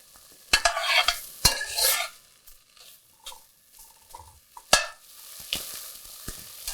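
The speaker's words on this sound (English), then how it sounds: "we're going to saute this down a bit" Precooked sausage sautés in a soup pot, browning and rendering its fat: a soft, steady sizzle under repeated sharp scrapes and clanks of a spoon stirring against the pot, loud and close, with no talking.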